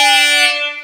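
A short, blaring air horn sound effect from the djay Pro Essentials sample pack, loud and brassy, sounding alone and fading out over under a second.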